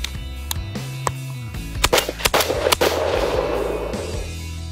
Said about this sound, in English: To demonstrate, I'll load a 2¾-inch light target load, a 3½-inch turkey load, and a 3-inch nitro pheasant load.